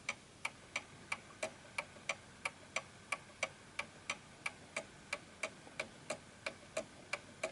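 An antique 1920s Napoleon hat mantle clock with an 8-day movement ticks in a steady, even rhythm of sharp, crisp ticks, about three per second. It is close but quiet, over faint room hiss, with no talk.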